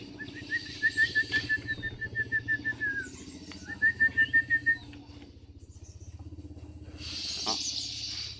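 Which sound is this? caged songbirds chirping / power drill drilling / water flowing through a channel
caged songbirds chirping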